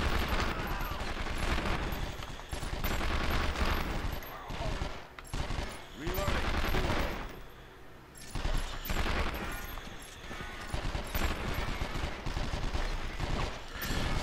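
Sustained loud gunfire in 24: The Game on PlayStation 2, heavy bursts of shots and impacts running almost continuously with brief dips, under a dense combat mix.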